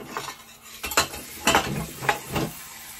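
Dishes are washed at a sink, with cutlery and plates clinking and clattering in a few irregular bursts over a low watery hiss, close by and moderately quiet, no talk.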